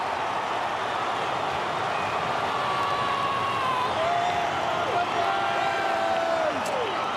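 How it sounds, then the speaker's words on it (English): Football crowd at a Geelong versus Carlton match, Round 9 of 2011, roaring steadily as a Carlton home game builds, a continuous loud wall of cheering and noise throughout with faint tonal calls rising from within. "And the crowd really starting to get involved"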